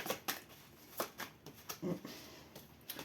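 Tarot cards shuffled for a reading, giving a series of quick papery riffles and snaps, close and fairly soft, with brief pauses between bursts and no talking.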